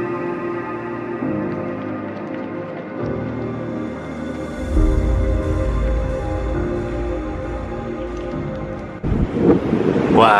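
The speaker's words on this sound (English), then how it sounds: "it's windy as hell" Gusty wind blows strongly at St Johns Lake on a winter evening during carp fishing, a low rumbling buffet against the microphone that surges louder partway through, with a faint voice briefly near the end.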